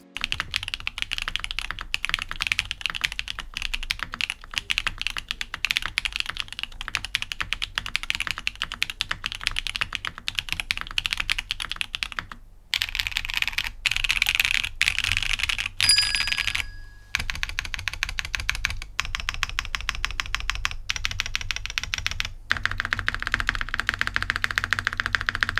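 Rapid, steady typing on a mechanical keyboard fitted with GMK ABS keycaps (swapped from stock PBT) and no foam inside: dense, close clacking keystrokes with brief pauses, heard alone.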